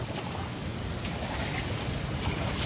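Sea waves wash close to the shore near a hut during strong weather, a continuous rough roar of surf and wind noise that stays broad and steady throughout, with no voices.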